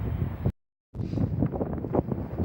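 Gusty wind buffets the microphone in an open field, a loud rumbling roar that cuts out briefly to near silence before surging back.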